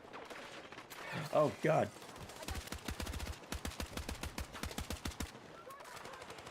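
Video game gunfire cracks out in quick rapid bursts, a couple of louder shots first, then a fast rattling volley that trails off, with a brief voice exclaiming.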